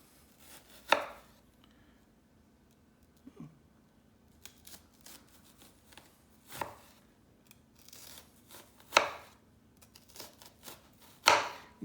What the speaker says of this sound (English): this is where you can look at those lines on the onion and kind of give yourself a good guide on how big your slices are